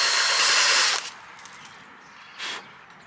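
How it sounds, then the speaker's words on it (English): Power drill boring out a small hole in a part for a Ride Vision 2 motorcycle safety system install, a loud steady broadband whir for about a second, then a brief second short burst after a pause. "We're going to try and drill this hole out a little bit."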